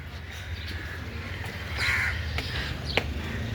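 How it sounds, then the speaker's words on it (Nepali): Crows cawing outdoors near a resting spot, several caws scattered through the clip over steady low background rumble, moderately loud and a little distant. "मास्तिर फेरि कागहरू कराइरहेको छ।"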